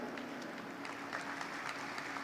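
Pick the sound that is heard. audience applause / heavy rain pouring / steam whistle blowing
audience applause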